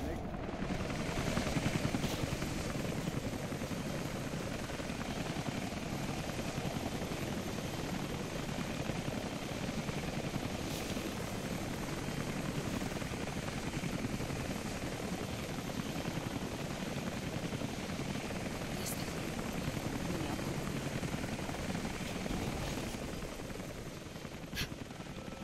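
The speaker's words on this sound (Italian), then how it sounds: "Posto di comando 2, ultimo elicottero in volo." A helicopter flies in an action-adventure game, a continuous heavy rotor rumble that holds loud throughout, with occasional sharp clicks and a faint voice in the background.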